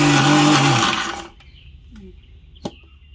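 A mixer grinder whirs loudly as it grinds green peas into a paste, then shuts off after about a second, leaving quiet with a couple of light clicks and a sharp tap.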